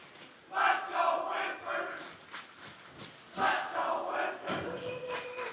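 A hockey crowd at a live game chanting in rhythmic surges, a mass of voices rising and falling in two broad swells.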